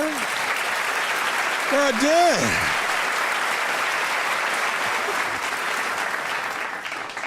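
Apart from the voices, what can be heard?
audience applause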